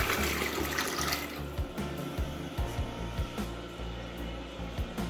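A newly installed toilet cistern flushes in a bathroom renovation, water rushing loudly into the bowl and then gurgling and refilling, with scattered clunks and knocks throughout.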